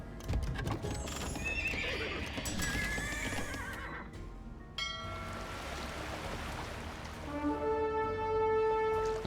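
A horse in the Age of Empires II video game whinnies loudly, with clip-clopping hooves and game ambience around it, then a bright sustained tone rings out near the end.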